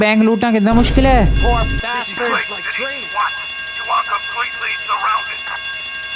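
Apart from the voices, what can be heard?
alarm ringing during bank robbery in video game GTA Vice City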